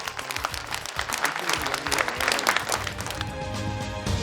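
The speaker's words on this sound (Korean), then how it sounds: "박수 한번 주십시오." Studio audience applause on a Korean TV antiques appraisal show, right after an old celadon cup stand is valued at six million won. The clapping is dense and steady, with a crowd sound that carries on for the whole stretch.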